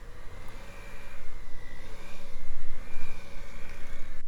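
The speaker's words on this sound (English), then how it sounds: "And now he's going to whisk it again." An electric mixer whisks marshmallow buttercream frosting at medium to high speed, giving a loud, steady motor whir that swells slightly partway through and holds without pause.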